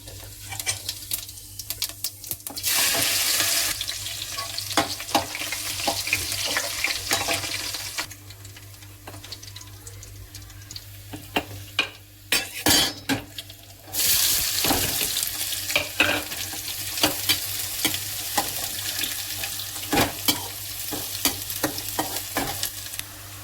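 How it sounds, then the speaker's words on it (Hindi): Onion roasts in a pan for savoury vermicelli with a continuous close sizzle, frequent sharp spatula scrapes and stirs, and louder bursts of crackling oil, no talking. "प्याज रोस्ट हो चुका है"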